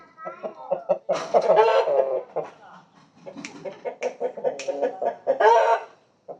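Country chicken hens on a farm cluck and cackle repeatedly nearby, a busy stretch of irregular clucking rising and falling in bursts.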